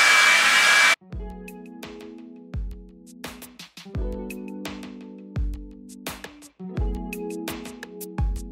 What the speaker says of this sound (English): So for the most part, my hair is pretty much blow dried a little bit.